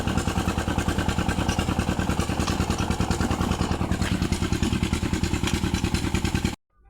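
A brick-making machine runs steadily at a brick works, with dense rhythmic mechanical clatter and a loud engine-like drone that holds for about six seconds and then cuts off abruptly.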